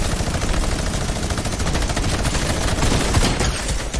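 Gunfire from the video game Fortnite rattles on without pause, a dense, loud stream of rapid shots filling the whole stretch with no voices over it.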